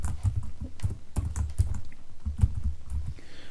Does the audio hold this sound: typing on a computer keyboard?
yes